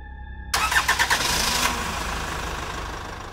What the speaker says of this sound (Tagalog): Nung mag-start na yung makina ng kotse namin